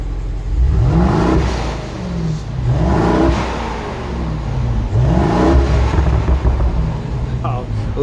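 A 2017 BMW Alpina B7 revs three times in a row. Each rev swells, then falls back, giving a loud, deep exhaust roar close by that rises and settles in a steady cycle.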